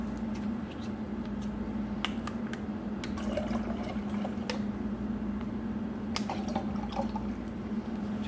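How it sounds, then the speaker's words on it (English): Two cups of water trickle into a Jetboil Flash Java cooking cup, a soft steady liquid pour with scattered small clicks and drips over a constant low hum, fairly quiet and close. "We're going to put in 2 cups of water,"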